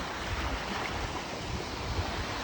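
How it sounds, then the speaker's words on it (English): Rough Lake Superior surf pounds the Wisconsin shore after overnight storms, a constant dense wash of breaking water with gusty wind noise over the mic, no voices. "A lot of waves crashing against the shore."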